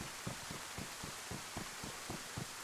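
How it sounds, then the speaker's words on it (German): Heavy rain falls in the survival video game DayZ, a dense steady hiss with soft rhythmic thumps underneath, fairly quiet and continuous with no talking. "Es regnet zwar wie die Sau"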